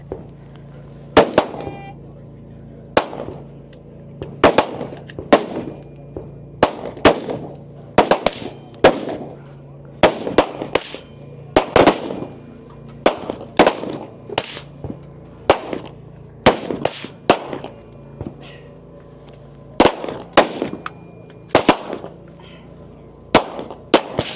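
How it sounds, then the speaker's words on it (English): Rifle shots ring out at a shooting competition firing line during a women's elite regional stage, in sharp, loud cracks that come in clusters of two or three with short gaps, repeating steadily throughout. "Now joined by her other competitors as they finish up their rifle at the firing line."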